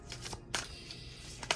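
Tarot cards are chaos-shuffled in quick riffling bursts: two rapid flurries, a short pause, then another sharp flurry and a final snap at the end, close and dry with no talking.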